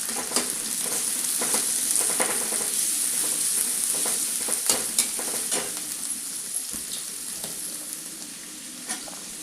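Onion, cauliflower and ginger-garlic paste fry in a pan, giving a steady, close sizzle throughout with frequent scraping and stirring clicks from the spoon and no talk.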